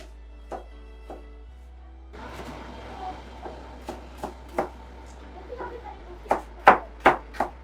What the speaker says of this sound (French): Donc, ce que je vais faire, c'est que je vais émincer.